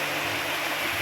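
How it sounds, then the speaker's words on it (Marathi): Steady rushing of flowing monsoon water in Konkan, a continuous broadband babble with no pauses, close and fairly loud. "खळखळ वाहणारं पाणी"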